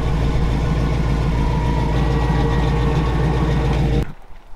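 A car engine with an exhaust problem idles loudly with a rough, uneven, rattling exhaust chug, close by and steady, then cuts out abruptly near the end.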